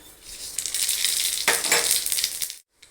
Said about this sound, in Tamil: இப்போ தாளிச்சுக்கிறேன். நான் கடுகு, உளுத்தம்பருப்பு, சீரகம், வெந்தயம்,